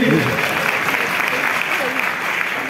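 Audience applause at a Paris stand-up comedy show, a steady dense clapping from a crowd that holds for nearly three seconds and tapers slightly at the end.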